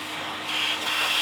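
A vacuum sucks up sawdust while a guitar fretboard is being slotted in an acoustic guitar build, giving a steady, close hiss and whoosh that grows louder about halfway through.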